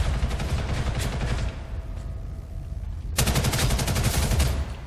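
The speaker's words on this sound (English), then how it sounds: "So I'm going to just try my assault rifle for a little bit." Assault rifle gunfire in the online shooter Ghost in the Shell: Stand Alone Complex – First Assault, loud rapid automatic bursts that pause briefly midway, then resume in a sustained stream.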